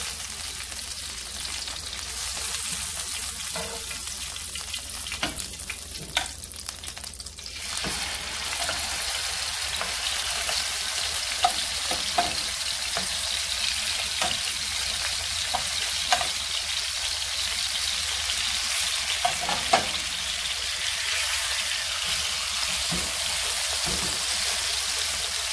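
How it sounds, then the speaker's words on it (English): Pork spare ribs sear in a hot pan, giving a constant crackling sizzle with scattered pops and spits; the sizzle grows a little louder partway through and holds steady to the end. "You don't want to fry them really, but you just want to sear them"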